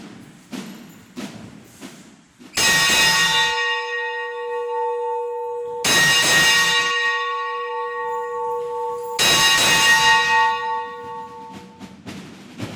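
A church alarm bell at a monastery on Monte Carmelo rings out in three loud, sustained bursts, each strike ringing with bright overtones and a lingering hum between peals, with no voices present.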